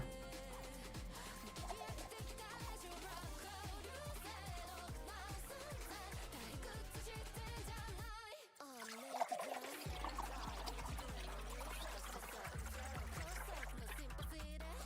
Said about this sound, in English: Water pour. Water pour.